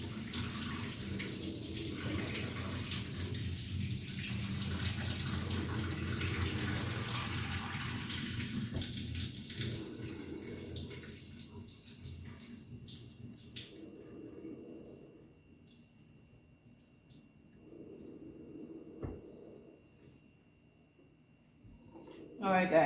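Water from boiled macaroni poured off to drain, a steady rushing gush that tapers later, with a voice talking over it.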